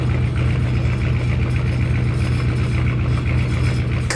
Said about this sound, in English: Vroom, vroom, get out of me way! I'm driving me neighbor's tractor!